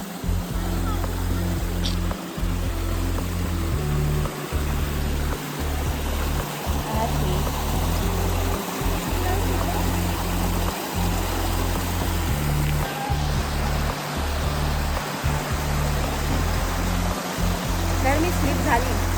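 A waterfall on a Kharghar trekking trail roars in a loud, continuous broadband rush from close by, with a low rumble running underneath throughout.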